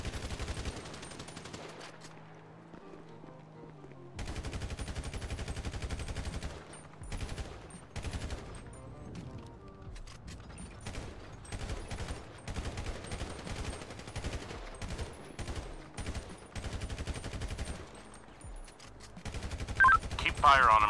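Rapid automatic gunfire in the GTA 5 role-play game, long bursts of shots broken by short gaps, with a voice talking over parts of it.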